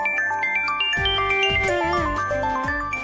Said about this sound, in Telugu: ఆ అబ్బాయి ఫోన్ చేస్తున్నాడు.